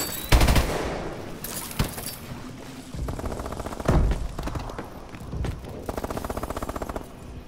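Fast-firing automatic rifle in Call of Duty: Advanced Warfare, loud close bursts of rapid shots broken by brief pauses, with a few heavy thumps mixed in.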